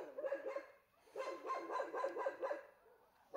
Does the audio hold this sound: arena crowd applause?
no